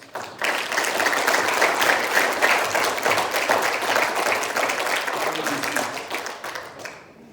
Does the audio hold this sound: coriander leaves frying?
no